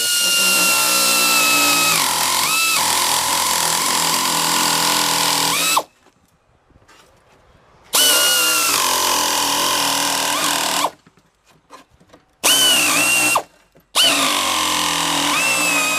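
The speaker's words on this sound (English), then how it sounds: "It literally just nibbles the metal off. So that's how I'm going to cut my contour." An electric metal nibbler chews through Jeep XJ floor sheet metal in loud, whining, buzzing bursts that stop abruptly several times, leaving short quiet gaps between the cutting runs.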